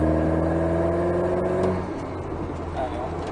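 An Alpine A110S sports car with a 292 hp engine accelerating on the Nogaro competition circuit, a loud, steady engine drone near the microphone that drops in pitch partway through, with no talk over it.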